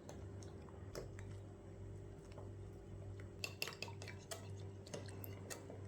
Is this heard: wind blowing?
no